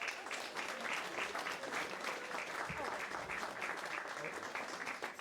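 A crowd applauds steadily at a school district staff recognition ceremony, a dense wash of clapping hands that holds at an even level for several seconds.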